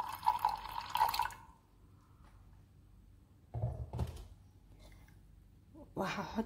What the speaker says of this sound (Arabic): هنزل عليها بشوية مية دافية